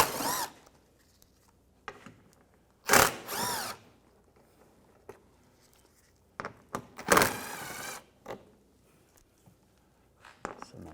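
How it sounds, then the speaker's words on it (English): 8mm socket on a power tool removing bolts from the front bumper shield of a 2004-2010 BMW X3, two short whirring bursts a few seconds apart amid faint clicks and handling noise, close by. "Just use an 8mm socket. Take those bolts out."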